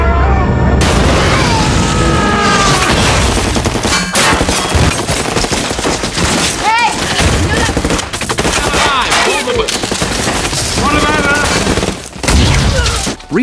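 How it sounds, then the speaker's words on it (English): A loud movie shootout in a post-apocalyptic gang battle, with dense bursts of gunfire, rapid volleys and booming blasts rolling over one another almost without pause, mixed with shouting and a soundtrack. "both sides start shooting at each other."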